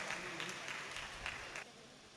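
Audience clapping at a mushaira poetry gathering, a steady crowd patter that fades out after about a second and a half, with an indistinct voice faintly underneath.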